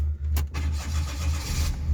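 A cheap, worn car engine idles unevenly with a loud, steady low rumble and slight wavering throughout, a brief sharp burst near the start, no talking.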